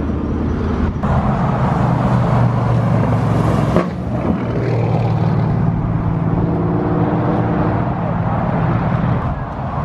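Turbocharged car engine revving hard and held against the rev limiter, a loud sustained roar with harmonic drone that cuts briefly near four seconds and then resumes, continuous and close throughout.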